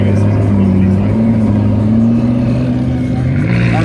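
A McLaren 720S supercar drives past at the Goodwood Festival of Speed, its engine note droning and rising steadily under loud commentary and crowd noise.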